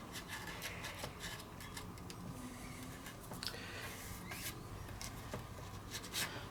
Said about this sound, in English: So get a sharp bladed knife and just run across all the old bits of glue,